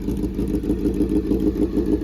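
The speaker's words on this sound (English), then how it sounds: "The Hot Pursuit CBR is running" A crash-damaged Honda CBR1000RR motorcycle engine runs just after its first start-up, a steady close, loud idle with a rapid pulsing rumble.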